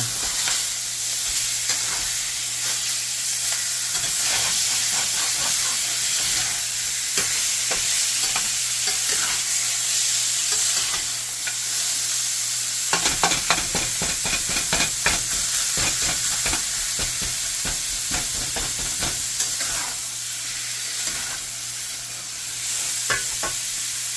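Ground beef for cheese steak sloppy joes frying in a pan, a continuous close sizzle with clusters of stirring and scraping noises, heaviest in the second half, no talking.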